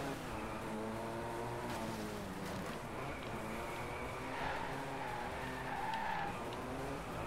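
Car tires squeal and skid continuously while drifting in the Driveclub racing game, with a droning engine underneath and no talking.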